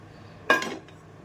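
A kadai set down on a lit stove gives one close metallic clank with a short ringing clatter that fades within a fraction of a second.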